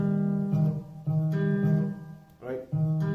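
Acoustic guitar picking the bass notes of a song, a few low plucked notes with short pauses between them, played close and quiet.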